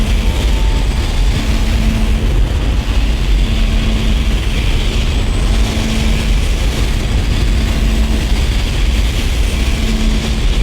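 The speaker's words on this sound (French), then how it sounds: "Donc là, on a activé le moteur de l'avion. Enfin, de l'avion, du vaisseau. La salle des machines est très bruyante." A spaceship engine room in the Dead Space video game roars after the engine is activated, a dense, loud mechanical rumble with a faint repeating hum throughout, no voices.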